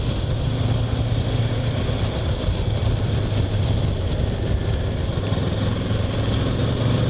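A Kawasaki Versys 650 motorcycle engine pulling from 2000 RPM, heard as a steady, loud low drone mixed with dense rushing wind noise that stays even throughout, with no voices.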